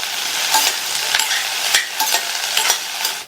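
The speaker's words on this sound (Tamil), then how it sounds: "மீடியம் ஃப்ளேம்ல வச்சு இந்த வெண்டைக்காயை 6ல இருந்து 7 நிமிஷத்துக்கு வதக்கிக்கங்க" Okra sizzles loudly as it is stir-fried in oil over a medium flame, with repeated scraping strokes of a spatula against the pan cutting through a constant, close frying hiss.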